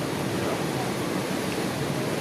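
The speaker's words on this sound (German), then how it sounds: "das rauscht ganz schön raus, das Wasser" Water rushing out strongly, a loud, steady, close roar with no breaks and no talking.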